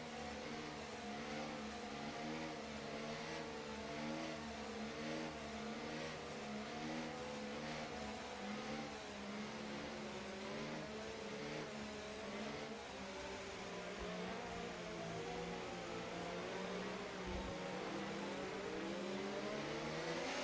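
Race cars in a racing video game roar together as they accelerate at a safety car restart, a loud, steady, layered engine drone that rises and shifts in pitch for about twenty seconds.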